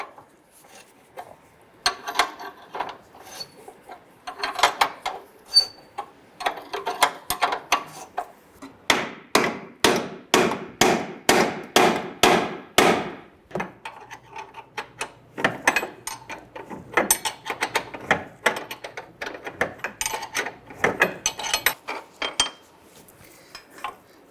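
Hammer strikes knocking out the forward lower control arm bolt on a 1994-2004 Ford Mustang front suspension: a sharp, rapid run of loud metallic blows close by, with scattered clanks of tools before and after.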